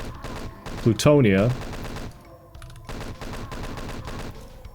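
Rapid bursts of Doom 2 gunfire from chain gunners and a shotgun rattle on in dense, loud, repeated volleys, with a pained grunting voice cutting through partway.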